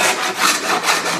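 A Japanese rasp files along wooden oar blanks in repeated close, coarse strokes, each a gritty scrape in an even back-and-forth rhythm, heard alone.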